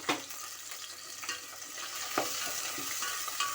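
One large onion, thinly sliced, fries in oil for egg dum biryani, a continuous close sizzle broken by repeated spatula stirs and taps, with no voices.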